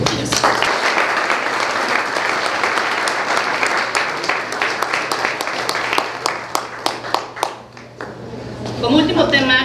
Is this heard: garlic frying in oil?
no